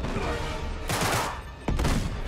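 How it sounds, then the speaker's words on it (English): Explosions from grenades in the video game Uncharted 3 burst loudly over dense gunfire, with two heavy blasts close together near the end of a short, busy firefight. "My grenade made him drop his grenade, and his grenade killed him."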